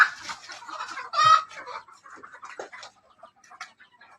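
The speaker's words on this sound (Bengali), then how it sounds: "দেশি মুরগি সব।" Local free-range hens clucking softly in a backyard flock, with one louder, sharper squawk standing out briefly among scattered quieter clucks and rustling.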